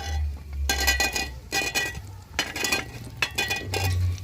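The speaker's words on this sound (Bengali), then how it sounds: "এবার সব কিছু একটু মিশিয়ে নেব।" A spoon stirs a spice mix of salt and turmeric in a pan for raw mango pickle, making short bursts of clinking and scraping metal separated by brief pauses.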